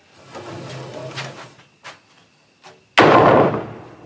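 Wooden boards scraped up the side of a floor opening with a piece of 2x4 on a homestead build, a few soft knocks and rubs followed by a loud, close scraping burst near the end.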